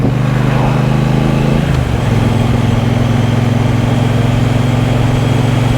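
A 2023 Triumph Bonneville Bobber 1200 riding along orchard roads, its engine a loud, steady low drone that shifts pitch once, as if changing gear, with heavy wind noise throughout.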